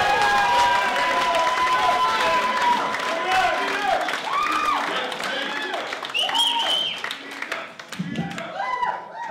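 Audience applause and cheering for comedian Michael Geeter at a comedy night at a VFW hall, a loud, sustained crowd roar with clapping, whoops and voices mixed in, tapering briefly near the end before swelling again.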